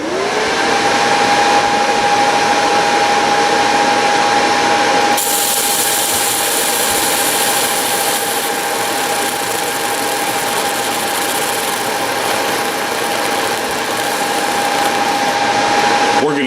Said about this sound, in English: It's going to get a bit noisy because I have to turn on the machine, which fires up all the fans.